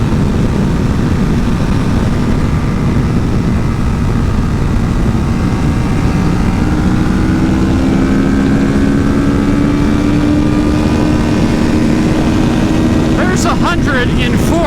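A Kawasaki Ninja 650 sport bike pulling hard in fourth gear, its engine a loud, continuous drone with rising tones and heavy wind rush throughout.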